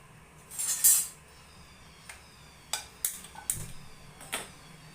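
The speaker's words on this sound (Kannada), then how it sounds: "ನಾನು ಸ್ಟವ್ ಹಚ್ಕೊತೀನಿ ಈಗ" A gas stove being lit in a home kitchen while cooking South Indian style chicken gravy: a brief rattle followed by a series of sharp, separate clicks and light metallic clinks over a quiet background.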